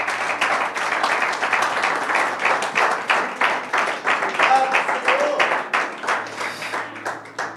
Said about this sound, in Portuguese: Vamos celebrar aplaudindo o nosso Deus.